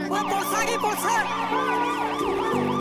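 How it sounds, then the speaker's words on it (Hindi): A wailing siren rises and falls repeatedly, loud and close, sweeping up and down in pitch without pause. "इनको सुनाई देता है पुलिस का सायरन"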